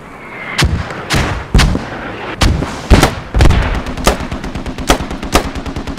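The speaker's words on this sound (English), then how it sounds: "Waiting for the mortars to stop." Mortar fire in the Squad military video game during an assault on an Iraqi city: a series of loud, sharp booming blasts and impacts, irregularly spaced, some near and some more distant, with rapid gunfire chattering between them.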